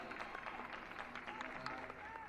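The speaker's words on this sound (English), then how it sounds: "Round of applause from the stands for Mubarak, a very, very well-liked player." Stadium stands at a Saudi women's league football match applaud a substituted player, a faint, steady patter of distant clapping from the crowd heard beneath a commentator's voice.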